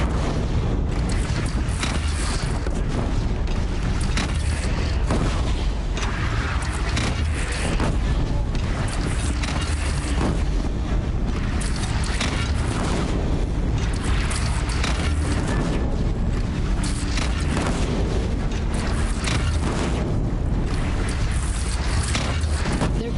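Repeated heavy booms of cannon fire in the video game Horizon Zero Dawn, dense and loud over a constant rumbling battle din lasting the whole stretch.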